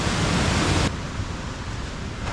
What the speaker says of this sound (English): Waterfall number 3.